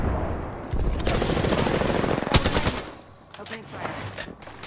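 Automatic weapon fire in the battle royale game Apex Legends, with sustained rapid bursts, a louder sharp shot partway through, and quieter scattered shots and game sounds afterward.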